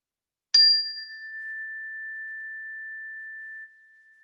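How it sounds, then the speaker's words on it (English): A meditation bell is struck once, a bright clear strike that settles into a long, pure, sustained ring lasting about three seconds before dropping away, heard alone in quiet. "as I invite the bell"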